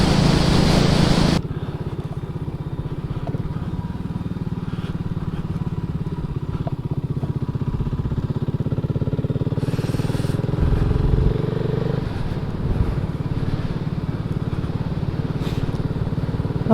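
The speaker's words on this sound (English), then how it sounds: "Here's another bike." A motorcycle rumbles steadily nearby on a road into Stone, its low engine drone holding throughout with a rising whine as it passes, mixed with wind and road noise.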